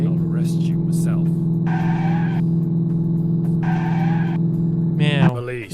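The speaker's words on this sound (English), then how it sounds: "This must be the worst car chase in video game history" Video game car chase with tires skidding in bursts over a steady engine drone, several squeals rising and falling, with voices talking over it.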